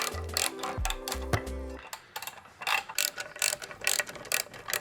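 Ratchet wrench clicking as it works a bolt loose on a Mercury boat motor, starting with a few long rapid ratchet runs and then breaking into short bursts of clicks, close and fairly quiet.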